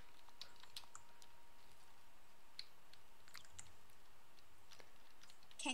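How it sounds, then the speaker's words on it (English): Someone types at a steady, quiet pace on a non-mechanical Razer gaming desktop keyboard, producing soft, scattered key taps with no voices. "Can you hear my keyboard?"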